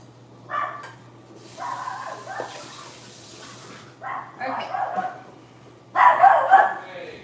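A dog barks in short loud bursts that come and go, with a voice talking between them and faint running water in the room.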